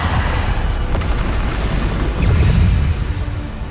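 Bombarda spell blasts in Hogwarts Legacy sound as a steady, loud, rumbling barrage of booming explosions, with combat effects layered dense throughout and no clear gaps.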